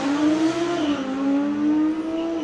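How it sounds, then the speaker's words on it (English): Audi R8 with a Lamborghini-derived engine at a street car show, heard as a close, loud revving whose pitch rises and falls as the throttle opens and eases off, with no voices over it. "Oh, them Audi R8s do sound good."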